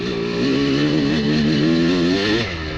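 A Honda two-stroke dirt bike with its power valve removed screams at wide open throttle, a loud, steady, buzzing high-rev note that wavers slightly before easing off at the end.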